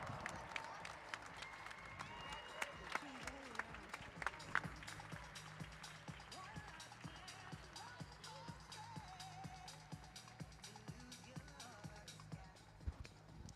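A crowd applauds the winners of a state Madison cycling championship at a velodrome, a dense, distant patter of clapping running throughout, with an announcer's voice over the top.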